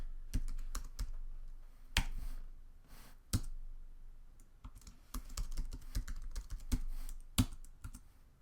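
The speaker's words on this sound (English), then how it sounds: "let me just type a little bit here" Typing on a computer keyboard during a sales lesson, with quiet irregular bursts of key clicks and a few sharper taps, close and alone.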